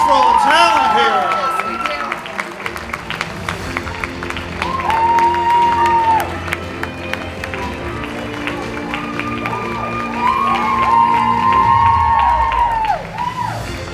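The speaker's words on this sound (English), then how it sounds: "Let's keep that applause going." A talent show audience at a seniors' event claps and cheers continuously, a loud dense wash of applause with shouts and whistles rising over it and a voice speaking throughout.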